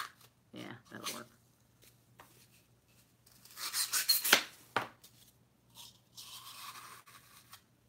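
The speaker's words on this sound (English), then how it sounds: "I had to steal a knife from my kitchen to cut these" A kitchen knife cuts through silk flower stems, giving a few short scraping, snipping strokes and a denser burst of cutting close by, separated by quiet gaps.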